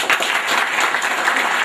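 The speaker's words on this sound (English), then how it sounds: "giving a big round of applause to Justice Rao and Professor Anand." A short burst of dense applause from a lecture audience, steady and loud throughout with no voices on top.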